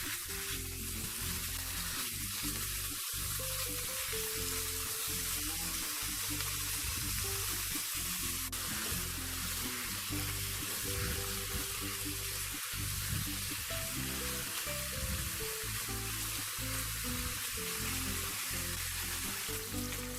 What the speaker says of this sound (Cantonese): 我哋先爆香啲豬肉。